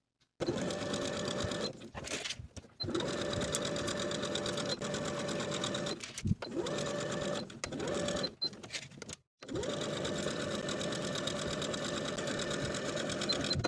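A sewing machine runs steadily while stitching the side seams of jumpsuit pants, a fast even whir in long bursts separated by brief pauses, quiet and close with no voices.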